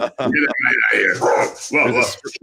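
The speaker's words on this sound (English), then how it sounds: "My dogs have decided they're not that fond of you, Bill." Several dogs bark at a stranger indoors with sharp, repeated yips and barks, close and loud, mixed in with people talking over them.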